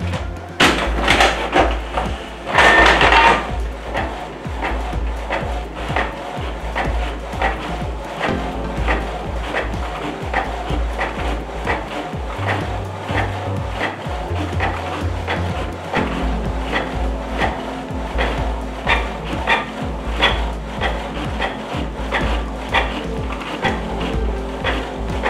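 Canon PIXMA PRO-200 and PIXMA G500 inkjet printers run through a document print job, giving a continuous mix of clicks, whirs and paper-feed clunks, moderately quiet and nearby.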